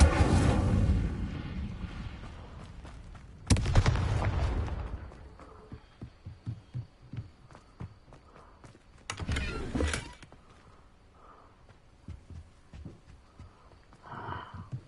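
The Incendio fire spell cast in Hogwarts Legacy, with bursts of roaring, crackling flame that flare loudly and die away, separated by quieter stretches of small clicks and game effects.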